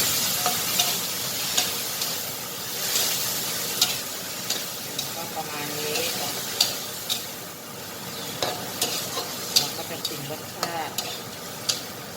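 Sun-dried squid sizzles and crackles in a hot pan with chili paste, sliced chilies and kaffir lime leaves while a utensil scrapes and stirs repeatedly, with brief voice fragments underneath.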